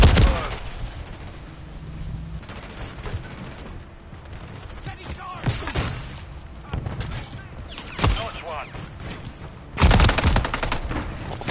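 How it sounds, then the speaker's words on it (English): Gunfire in a ranked Call of Duty match: bursts of automatic rifle fire and scattered single shots, close and loud, with sharp cracks recurring throughout and game voices talking between them. "Taking fire."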